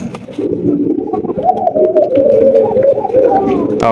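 Low, throaty cooing of German silk pigeons repeats steadily over a few seconds, fairly loud and close, with soft background noise.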